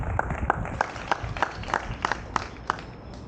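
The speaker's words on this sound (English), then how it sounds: "would you please put your hands together and give him a warm round of applause" A small outdoor audience at a songwriters' show on a plaza gives sparse, scattered claps, a handful of distinct hand claps spaced out over a few seconds against low background rumble.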